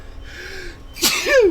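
A single sharp sneeze bursts out close by on a boat being hauled out for antifouling, preceded by a brief vocal sound, loud against a quiet background.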